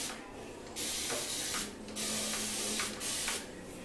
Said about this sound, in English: And my spray water spritz. So, The first thing I do, I spray my hair